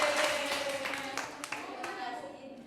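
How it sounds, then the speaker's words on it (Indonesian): A school class claps hands together during a teaching session, a short burst of scattered claps under a teacher's voice and children's chatter that fades over a few seconds. "Oke, tepuk tangan dulu"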